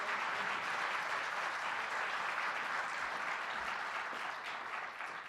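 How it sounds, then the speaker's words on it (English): Steady, even applause from an audience at an all-hands town hall, a continuous wash of clapping at moderate distance that holds for about five seconds. "let's give Julie another round of applause for a great work"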